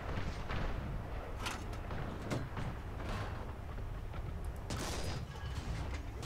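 Panzer IV F2 tank gun shots in War Thunder, several sharp booming reports scattered over a dense rumbling background of engine and battle noise, each shot a brief loud burst.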